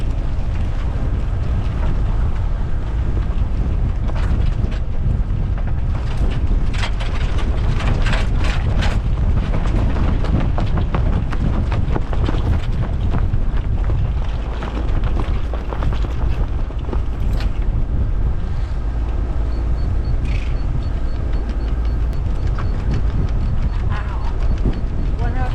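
A sailboat's loose sail shakes and flaps hard in strong wind, a continuous rough fluttering roar with buffeting wind noise on the microphone and water rushing around the hull.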